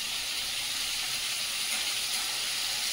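Tangra fish frying in a pan gives a steady, even sizzle and hiss that holds without a break, close and moderately loud, with no voices over it.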